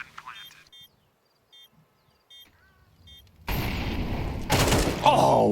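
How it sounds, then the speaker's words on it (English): Gunshots in Counter-Strike 2 at a professional match break in suddenly as a loud, sustained burst after a few faint electronic beeps, with excited commentary over it. "Oh, what a shot."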